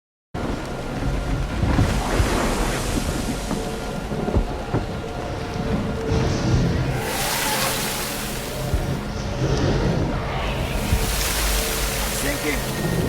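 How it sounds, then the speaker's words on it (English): Stormy sea in a film scene of walking on water at night: a loud, continuous roar of wind and crashing waves with repeated surging bursts, thunder-like rumbles and rain-like hiss throughout. "Jesus is walking on water and Simon goes out in faith, and then he starts to drown"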